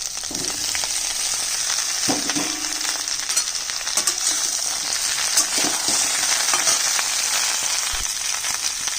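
Vegetables for shukto, including drumsticks and bottle gourd, fry in oil with a loud, continuous sizzle and crackle, with occasional scrapes and pops from stirring.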